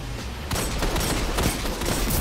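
Rapid hand cannon fire from the Last Word in Destiny 2, a dense, loud stream of close gunshots mixed with shield hits and game effects, with no talking.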